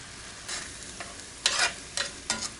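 Soft sizzle of peach glaze sauce in a chicken skillet, with several stirring scrapes and brief bursts of bubbling against a quiet low hiss.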